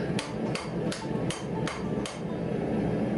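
A hammer flattens hot 5160 leaf spring steel knife bar stock on an anvil, six sharp metallic blows in a fairly even rhythm, close and distinct over a steady background hum.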